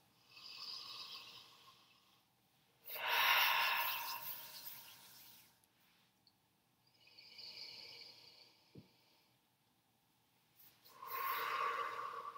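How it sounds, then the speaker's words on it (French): Deep breaths drawn in over wild orange essential oil held in a cupped hand: three slow, close breathy inhales and exhales, each a few seconds long, separated by quiet pauses. "Je vous invite à prendre 3 bonnes respirations."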